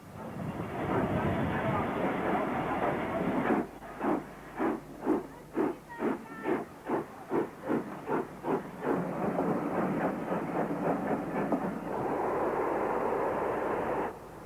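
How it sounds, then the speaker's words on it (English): Royal Scot steam locomotive 46124 London Scottish hauls a special train at Stafford, its exhaust breaking into a run of distinct rhythmic chuffs between stretches of steady hiss and rumbling, fairly close and loud. "This is Royal Scot 460 number 46124, London Scottish, on a special train."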